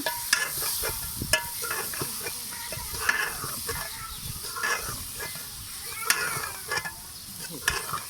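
Onions frying in a pan while being stirred to mix: a steady sizzle with repeated scraping and clinking strokes at an irregular pace, close by and fairly loud, no talking over it.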